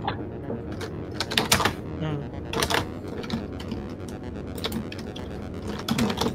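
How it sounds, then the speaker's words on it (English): Loud typing on a computer keyboard comes through as scattered sharp clicks and bursts of key presses, fairly close, over a noisy room background. "You are typing loud as fuck, Esme."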